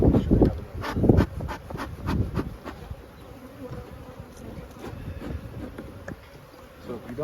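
Honeybees swarm and buzz around an open hive during colony equalizing, a dense close drone with louder bursts early on that settles into a steady hum.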